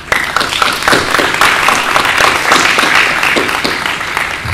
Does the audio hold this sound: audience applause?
yes